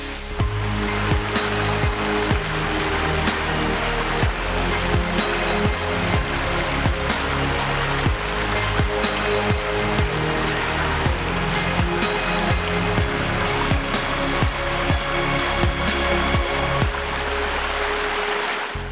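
A constant, dense roar of a river rushing through green mountain terrain, loud and unbroken from start to finish with no voices over it.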